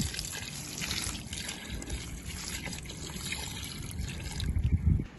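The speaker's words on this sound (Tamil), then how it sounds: "அதுக்கும் கொடுத்துடலாம் அந்த தண்ணியை" Water trickles and splashes steadily onto a dragon fruit plant growing in a bucket in a rooftop garden, close and continuous, with a louder gushing surge near the end.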